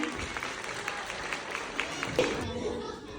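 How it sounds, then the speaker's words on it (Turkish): Kindergarten children at a year-end show applauding themselves, a continuous patter of small-hand clapping with crowd noise and some voices underneath, fading slightly toward the end. "Şöyle kendinizi alkışlar mısınız siz de?"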